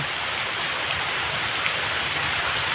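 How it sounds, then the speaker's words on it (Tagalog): Steady heavy rain pours down outdoors during a fishing outing, a dense, continuous hiss of drops on surfaces with no talk over it. "Yan mga idol, umuulan mga idol"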